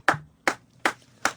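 Four slow, evenly spaced hand claps ring out sharply, close and alone in a quiet room.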